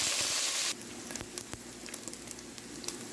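Ground meat browning in a hot pan gives a steady soft sizzle with scattered small pops and crackles. A louder burst of hiss at the start drops to a quieter, even frying sound, with no talking.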